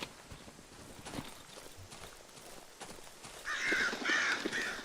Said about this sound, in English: I just heard another bunch of birds fly off